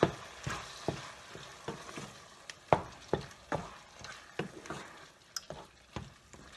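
Pasta is stirred with Alfredo and tomato pasta sauce in a pot, giving soft, wet squelching strokes with clear scrapes at a steady rhythm, close up, with no talking.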